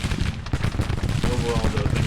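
Cannon fire from artillery batteries in the Grand Tactician Civil War strategy game, a dense, continuous rumble of booms and crackling shots layered with distant battle noise throughout.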